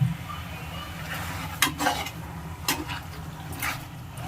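A spoon scrapes and clinks around a pan of chicken gravy over a low steady simmer, with a few sharper metallic knocks, close by.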